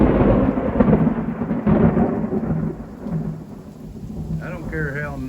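Thunder from a big lightning bolt in an outdoor storm rolls as a loud, deep rumble that swells, sustains, and slowly fades, with rain and wind noise underneath.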